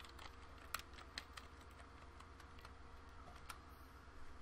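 Quiet, scattered clicks of a computer keyboard as a password is typed, irregular keystrokes with a few sharper taps over a faint electrical hum.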